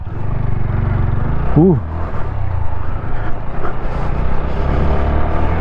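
A car drives through dirty mud on an off-road stretch, its engine giving a steady, loud low rumble throughout, with voices faintly mixed in.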